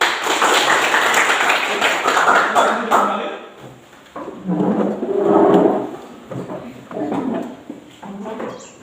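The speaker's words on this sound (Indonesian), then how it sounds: "Kita beri aplaus dulu" A classroom of children bursts into dense, close applause for about three seconds before it stops and a teacher talks, with occasional taps and thumps.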